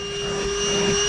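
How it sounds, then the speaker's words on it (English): Vacuum cleaner running steadily inside the driver's side of a crashed Ferrari 488 Spider, a constant droning whine with a sharp tonal hum, close and loud, briefly swelling as the nozzle moves. "I then gave the driver's side a little once over with the vacuum cleaner"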